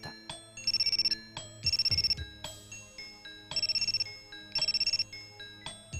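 A mobile phone rings with a bright electronic melody. Short bursts of notes repeat in a steady cycle, clear and close, with no voices.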